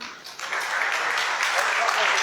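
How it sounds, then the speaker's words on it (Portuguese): A church congregation applauds during a worship service, a continuous wash of clapping that builds quickly after a brief moment and holds steady, heard from some distance. "Aplauda Jesus, por favor"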